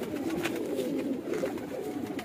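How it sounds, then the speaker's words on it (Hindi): Pigeons kept for sale coo softly nearby, low throaty murmuring calls repeating in a loose rhythm over a quiet background. "ये लड़ते हुए कबूतर है ना"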